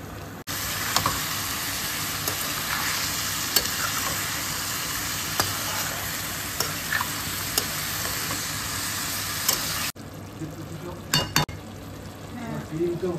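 Fish curry with a cumin tempering bubbles and sizzles loudly in a pan while being stirred, with steady frying hiss, scattered utensil scrapes, and a brief break near the end before more clinks.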